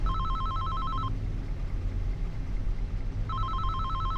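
A phone rings while placing a call in the Farming Simulator 25 video game, two bursts of a warbling electronic ringback tone separated by a pause, over a steady low engine-like rumble.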